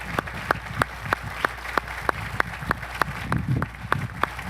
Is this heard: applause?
yes